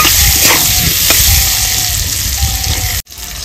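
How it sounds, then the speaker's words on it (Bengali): Potato pieces fry in mustard oil with salt and turmeric in a village kitchen, a loud, steady, close sizzle with scraping stirs that cuts off abruptly near the end. "নেড়ে চেড়ে সুন্দর করে ভেজে নেব।"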